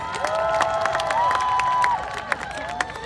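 A crowd applauds and cheers at a live army performance team show, with dense clapping and scattered shouts, while sustained musical tones ring over the noise.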